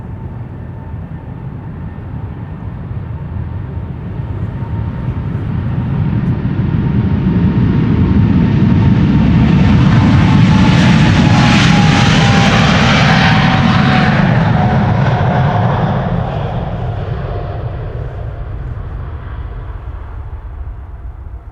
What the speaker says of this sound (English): This is KLM flight 743 to Lima in Peru, 777-300 the PHB VW.